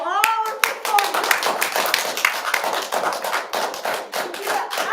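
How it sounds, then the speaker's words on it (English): Clapping from an audience at a young performers' woodwind, brass and percussion concert, a dense steady patter of hands lasting throughout, fairly close and loud. "please, another big applause to our performers"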